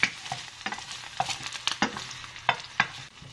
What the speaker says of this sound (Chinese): 锅里倒一点油，放入葱姜蒜，用小火把葱姜蒜炒出香味儿